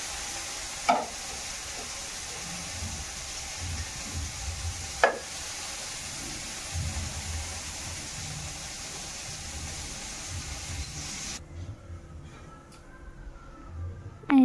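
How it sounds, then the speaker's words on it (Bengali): Sliced bitter gourd fries in a pan with a low, steady sizzle. A couple of sharp knocks from stirring cut through it before the sound drops away near the end. "এই যে করলাটা ভাজা হয়ে গেছে"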